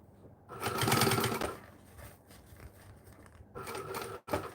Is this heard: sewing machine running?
yes